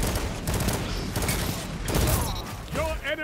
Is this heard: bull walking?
no